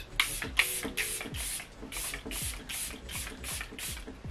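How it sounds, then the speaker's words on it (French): Charlotte Tilbury Airbrush setting spray mists out in a rapid run of about a dozen short, close hissing pumps, evenly spaced, with faint clicks between them. "je termine mon maquillage avec le spray fixateur de Charlotte Tilbury Airbrush"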